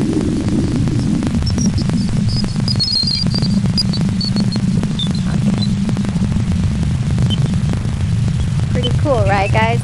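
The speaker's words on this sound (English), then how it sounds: "That's the sound of a baby in a womb." Recording from inside a womb, a deep, steady throbbing rumble with a constant low hum and muffled pulsing under it, loud and unbroken throughout, with a few faint high whistling tones drifting over it.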